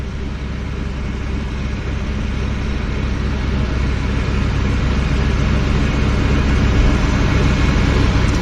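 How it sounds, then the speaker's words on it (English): A steady, loud radial-engine drone of a de Havilland Beaver floatplane taxiing at Vancouver's float base, low rumble holding constant and building slightly toward the end. "we've got an aircraft taxiing. It's a Beaver."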